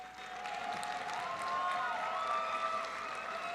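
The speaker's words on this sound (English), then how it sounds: "give a round of applause for all our dancers here" Audience applause and cheering for fursuit dancers at a furry convention dance competition, a dense, steady wash of clapping that fills the hall for the whole stretch, with a few voices and some music faintly underneath.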